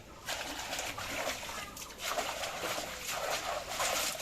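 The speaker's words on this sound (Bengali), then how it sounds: "অশ্বগন্ধা গন্ধগুলো আবারও আজকে ধোয়া হচ্ছে" Ashwagandha roots being washed by hand in water, with steady close splashing and sloshing in repeated surges as they are rubbed and turned.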